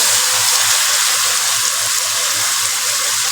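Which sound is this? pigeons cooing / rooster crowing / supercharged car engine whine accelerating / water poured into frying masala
water poured into frying masala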